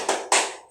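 Two sharp, close hand claps about a quarter second apart from children in a grade 5 classroom doing a rhythmic cheer, loud and with no talking.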